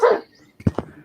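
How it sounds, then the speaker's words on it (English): Dog barks in a LEGO stop-motion film, with a loud yelp followed by two short, sharp barks in quick succession, close and clear against a quiet background. "Dogs."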